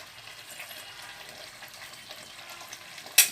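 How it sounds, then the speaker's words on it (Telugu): Paneer pieces cooking in oil and butter in a frying pan for palak paneer, giving a steady, faint crackling sizzle that ends with a brief sharp clink. "ఇప్పుడు పన్నీర్ ముక్కలు వేస్తాను, చూడండి."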